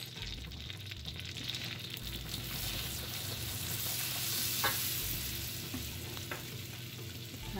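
Melted butter sizzles in a pan with chili powder stirred in, a steady close frying hiss with occasional soft scrapes and clicks of the spoon for spicy corn flakes.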